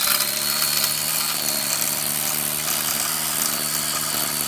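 A Black+Decker LSTE525 battery-powered trimmer/edger runs steadily along a mulch bed, giving a continuous high-pitched motor whine with the line's buzz held at an even, close level, no talk.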